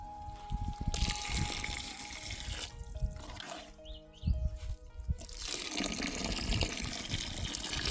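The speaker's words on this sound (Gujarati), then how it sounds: "મેથી નાખ્યા પછી આપણે બે ગ્લાસ પાણી અંદર ઉમેરશું" Water being poured into a methi curry after the fresh fenugreek greens go in, a steady splashing gush that pauses briefly midway and then resumes, close and fairly loud.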